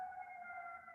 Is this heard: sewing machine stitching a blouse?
no